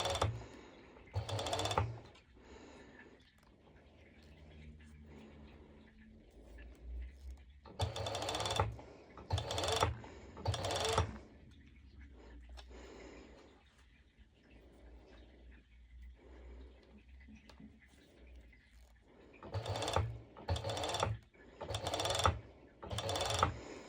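A sewing machine stitches mesh fabric for a ruffled open-back jumpsuit, running in short close bursts of rapid mechanical chatter separated by quiet pauses while the fabric is guided little by little.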